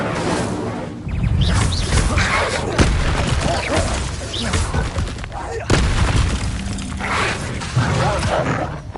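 Incendio fire spell cast in Hogwarts Legacy on PS5, loud whooshing, crackling bursts with booming impacts amid continuous chaotic combat noise, a few sharp cracks standing out.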